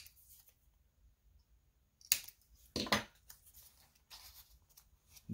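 Scissors snipping paper corners for a bee-themed junk journal, two or three short crisp cuts and some paper rustling, close by and otherwise quiet.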